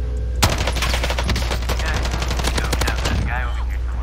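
Rapid automatic gunfire from Call of Duty Modern Warfare, dense bursts of shots cracking loudly and continuously for several seconds, with brief in-game radio-like chatter toward the end.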